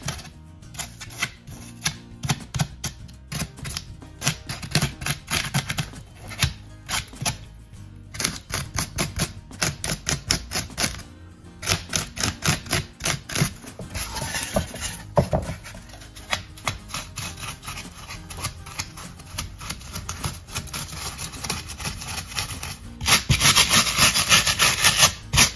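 Dense foam is cut and carved by hand into artificial rocks, producing a long run of close, rapid scratchy rasping strokes in uneven bursts, with brief pauses between passes.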